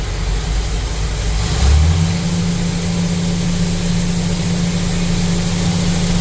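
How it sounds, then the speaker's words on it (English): A grain auger on a combine harvester during corn harvest runs with a steady, loud mechanical drone, the engine pitch rising and settling into a constant hum as the auger kicks on, with no voices. "So get back in here and we'll kick the auger on."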